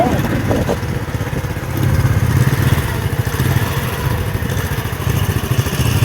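A motorcycle engine runs with a steady low putter that rises and dips slightly, heard close by beneath people talking throughout.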